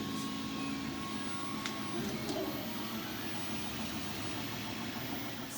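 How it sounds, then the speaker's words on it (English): Classroom 3D printer printing a face shield, a faint steady mechanical hum with soft motor whine and occasional light clicks, continuous and unbroken in a quiet room. "Right now you can see we're 3D printing one of the face shields."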